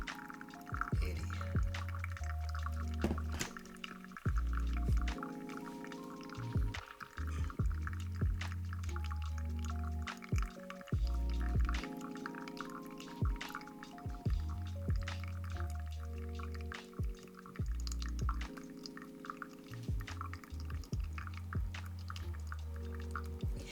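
Water poured over coffee grounds for a pour-over brew of Pulcal Guatemala beans, a soft trickling stream with intermittent drips and gurgles that stops and starts in repeated pulses, close and fairly quiet.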